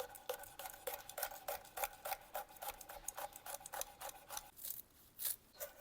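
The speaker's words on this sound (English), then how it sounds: "a rough chop of the cilantro." A knife roughly chops fresh cilantro on a cutting board, a steady run of close, crisp taps at an even rhythm with no talking.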